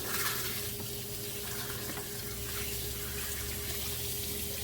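Coolant flows steadily through a Nissan Altima heater hose during a coolant flush, a constant close rushing of water with a low hum underneath and no speech.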